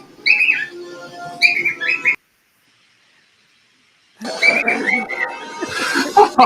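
A pet bird whistles in bright, repeated phrases, goes quiet for about two seconds, then resumes with busier chirps and whistles among faint background noise.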